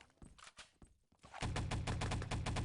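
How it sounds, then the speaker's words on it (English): Gunfire in the Enemy Territory first-person shooter during a NationsCup 2015 playoff match, around an upper mansion area, with sparse distant shots at first, then a sustained loud burst of rapid automatic fire. "he can hear a lot of gunfire in this upper mansion area"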